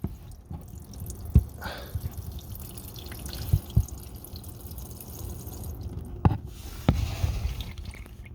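Thin engine oil drains from a Toyota Prius during an oil change after a motor flush, heard as a faint steady trickle with sparse, irregular drips landing close by.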